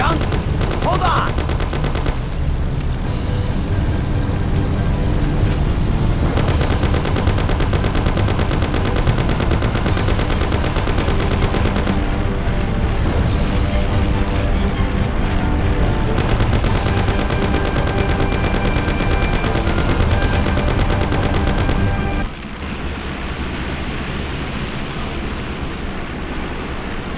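Gunfire rattles through the gangster shooter Mafia: The City of Lost Heaven in long, loud machine-gun bursts and shots over a continuous roar, with voices shouting over the fight before it cuts to quieter noise.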